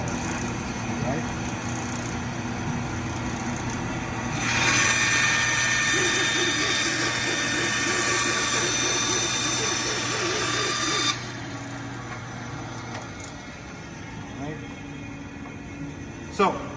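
Band saw running and cutting a wooden side piece for a cornhole set, a loud steady whine of blade and motor that rises sharply for about seven seconds during the cut, then drops back to an idling hum as it winds down.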